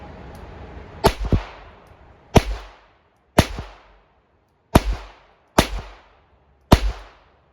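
Six sharp revolver shots of .32 S&W Long wadcutters fired double action, spaced about a second apart, each a loud close crack with a short ringing tail, outdoors at a range, no talking.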